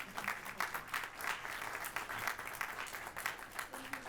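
Audience applause at a venture capital panel on AI investment in a hall, steady dense clapping from a crowd that carries on for the full stretch at moderate level.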